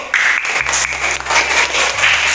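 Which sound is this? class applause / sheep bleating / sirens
class applause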